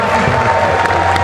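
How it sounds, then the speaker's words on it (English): A crowd at a BriSCA F1 stock car race cheering and applauding, a brief, loud, steady wash of massed voices. "He's got the biggest cheer as well, Ty."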